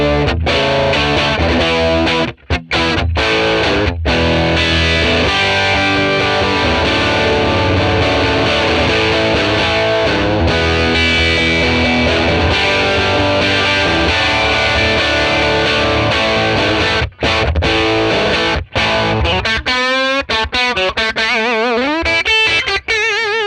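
A Les Paul electric guitar is played through a ToneX model of a 1957 Fender Tweed Bassman, giving a loud, continuous, driven and distorted tone with sustained chords and notes and a few brief pauses.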